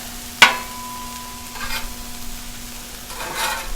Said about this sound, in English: season up the veggies as they cook. Give them a little toss. Work them around, let them cook.